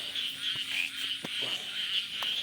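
A frog gives a few short croaks against a steady chorus of night insects, with faint scattered knocks.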